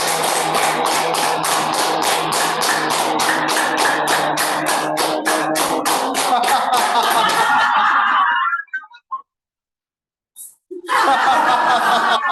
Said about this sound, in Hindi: पहले ताली वादन करेंगे फिर हंसेंगे